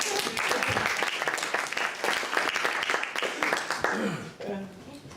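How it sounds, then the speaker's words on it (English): A live stage magic show audience applauds a volunteer with a full, dense round of clapping that fades near the end as a voice begins talking. "Give a round of applause for Cara."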